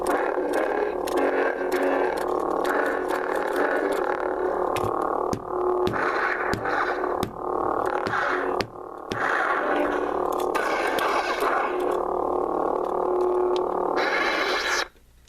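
A deep, buzzing lightsaber hum from a Force Awakens sound font in a Graflex 2.0 hilt drones continuously with crackling swings and sharp clashing bursts, ending in a quick power-down.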